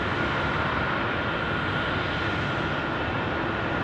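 Airliner departing Phoenix Sky Harbor International Airport for Taipei at sunset, a dense, steady jet engine roar holding loud and constant without letup.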